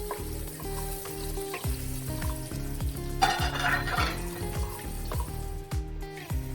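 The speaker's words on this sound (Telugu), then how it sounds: "జీలకర్ర, ధనియాలు, ఎండుమిర్చి, వెల్లుల్లిపాయలు వేసుకొని 2 నిమిషాల పాటు బాగా వేయించుకోవాలి." Cumin, coriander seeds, dried red chilies and garlic fry in hot oil in a pan for a Malabar spinach chutney, giving a steady sizzle with stirring and light utensil scrapes throughout.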